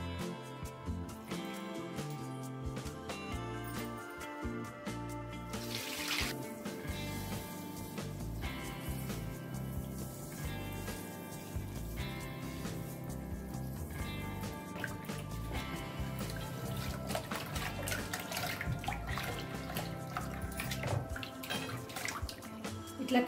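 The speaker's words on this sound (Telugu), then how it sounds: "ఫస్ట్ అయితే నువ్వుల్ని కడిగేసి ఇట్లా కొద్దిసేపు నీళ్ళలో నానబెట్టిన" Sesame seeds being washed by hand in water for Telangana Sankranti peanut and sesame laddus, giving steady sloshing and dripping that runs continuously and fairly loud throughout, with no talk.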